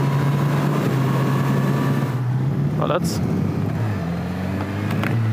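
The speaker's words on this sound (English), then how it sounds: "this is a proper turbine of an engine though" Honda CB1000R motorcycle engine on a test ride, its smooth steady drone rising as the throttle is fed on, heard up close under wind rush while a rider talks over it.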